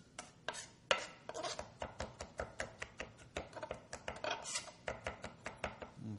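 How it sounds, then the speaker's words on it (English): A knife chops a single garlic clove on a cutting board, rapid close rhythmic taps repeating steadily at about three to four strikes per second, quiet and alone. "Mince the garlic."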